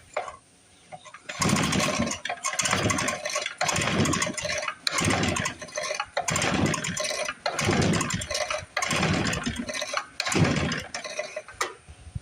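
A 1955 Briggs & Stratton engine that sat in the dirt for decades, primed with carb cleaner, is cranked over repeatedly in loud, rhythmic bursts of pull-start chugging, each attempt sputtering briefly without catching, close up and with no talk.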